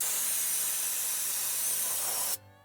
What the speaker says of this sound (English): Just spray everything.